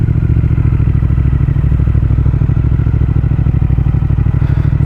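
A Triumph Speed Twin motorcycle's engine pulls steadily under way, a loud, close, continuous low throb with a fast even pulse and light mechanical clatter, no talk over it.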